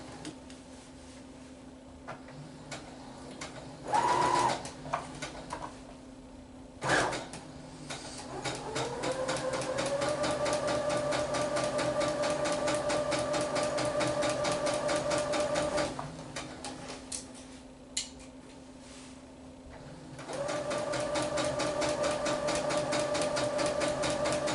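A sewing machine back stitching runs in rapid, steady mechanical stitching bursts, with a motor whine that starts, holds for several seconds, stops, then resumes, plus a few clicks and knocks between runs.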